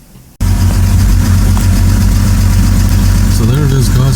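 A BMW engine with a lifter tick fires up after a short quiet moment and settles into a loud, steady idle with a rapid rhythmic ticking texture. A voice comes in briefly near the end.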